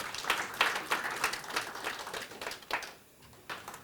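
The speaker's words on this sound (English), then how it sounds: "Please give a huge clap to all our partners tonight." An audience at a quiz night in Kisumu claps in a faint, distant patter of many hands that holds for about three seconds and then thins out.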